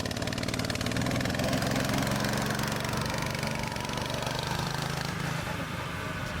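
A go-kart engine revs loud and near during a race, a steady buzzing drone held for several seconds that eases slightly toward the end.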